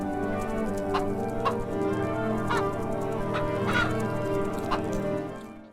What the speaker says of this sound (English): In the chicken coop, you can find this.